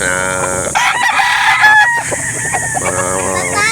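Roosters at the Black Eagle Game Farm, a game fowl farm in Calauan, Laguna, crow loudly and close by, with several overlapping calls and clucks filling the moment and faint voices underneath.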